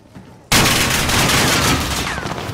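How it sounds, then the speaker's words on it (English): Loud, sustained burst of rapid gunfire erupts after a brief quiet start and continues without pause, firing at hackers in a Caldera lobby of a shooter video game. "I'm shooting one of the hackers."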